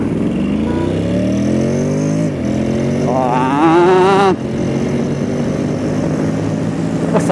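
A police motorcycle accelerating hard past a traffic light, its engine rising in pitch through the gears with a loud, close revving surge that peaks and then drops away, heard over steady road and riding noise.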